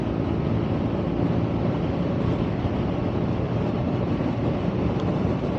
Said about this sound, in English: it's a naked, so you do get a certain amount of wind blast